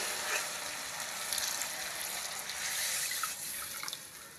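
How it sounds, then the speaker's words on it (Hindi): Water from a glass poured into a pan of cooked masala for aloo matar sabzi, a continuous soft splashing and trickling stream that stays fairly quiet throughout. "अब इसमें पानी डालेंगे 1 गिलास।"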